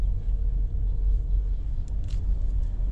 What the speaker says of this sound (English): We're just driving in at the moment.